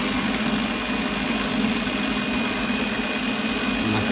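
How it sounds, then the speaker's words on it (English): An electric mixer on a slow speed whisks flour, salt, pepper and three eggs together, giving a steady, even motor hum that runs without a break and without any talk. "slowly whisk at a slow speed just to bring it all together"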